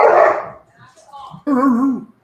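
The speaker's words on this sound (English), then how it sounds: "Dogs are not happy about that." Dogs barking, a sharp burst followed by a shorter second bark, close and loud, with a faint whimper-like sound between.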